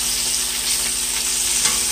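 A thick cobia fillet searing in a hot pan gives off a loud, steady, close sizzle, with a slight bump near the end as a spatula goes in to flip it.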